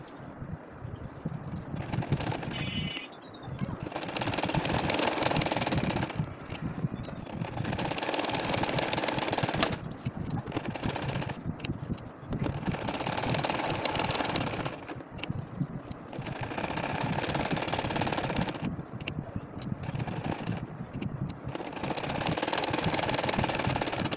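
A household sewing machine stitching curved lines on a nakshi kantha quilt, running in long steady bursts of mechanical whirring with short pauses between them, close and moderately quiet with no talking.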